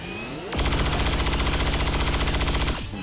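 Rapid automatic cannon fire from a soldier at a mech in XCOM 2, a sustained loud mechanical burst of evenly spaced shots lasting about two seconds, starting abruptly after a quiet lead-in and cutting off sharply.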